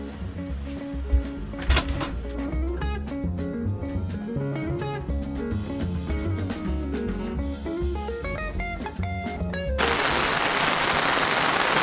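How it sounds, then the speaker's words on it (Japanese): Heavy sudden rain, a dense steady broadband hiss, swells up loudly near the end after a stretch of music playing indoors. "すごい雨です。"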